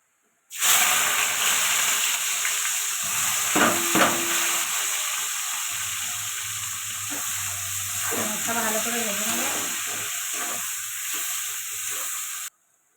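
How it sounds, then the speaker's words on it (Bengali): Two cardamom pods and bay leaves temper in hot oil, with onions about to go in, producing a steady hissing sizzle close by that runs nearly the whole time, with a brief faint voice partway through. "দুটো এলাচ আর তেজপাতা ফোড়ন দিয়ে দিলাম পেঁয়াজ দিয়ে দেবো"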